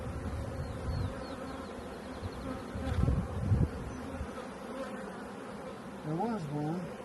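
Bees hum steadily around an opened hive during queen rearing, a close, continuous buzz with a few louder passes nearby, and a voice speaks briefly near the end.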